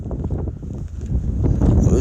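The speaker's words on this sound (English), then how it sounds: "windy out here, man. Dang." Strong wind buffets the microphone with a low, rumbling roar that rises and swells toward the end, along with faint rustling.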